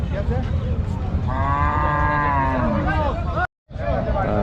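A Sahiwal cow at a busy city cattle market in Rajshahi gives one long, loud, drawn-out moo, with steady crowd noise and market chatter around it and a brief dropout near the end.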